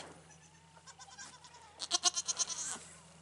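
Goats bleat in a quick series of wavering calls, faint at first and then louder and closer, with no talking.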